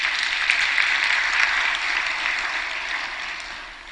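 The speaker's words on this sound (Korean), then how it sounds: "박수 한번 쳐줘요" A church congregation applauds a newly appointed choir conductor, a loud, dense burst of many hands clapping together that tapers off slightly toward the end, with no voices over it.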